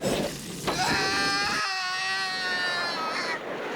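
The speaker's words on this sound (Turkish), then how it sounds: "Bir başka çığlık da burada." A character screams in the anime Tenkuu Danzai Skelter+Heaven, a shrill, sustained wailing cry with a pitch that breaks and rises, near and loud, about three seconds alone with no talk.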